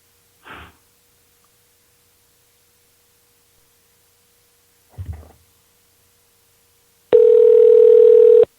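A single telephone ring tone comes over the line as a call goes out. It is a steady electronic tone lasting just over a second, preceded by two faint clicks and rustles in near silence.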